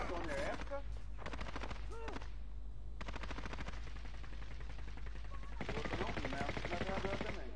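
Gunfire in Call of Duty Modern Warfare on PS4, with repeated automatic bursts in rapid sequences separated by short gaps, fairly faint overall, and players talking between and over the shots.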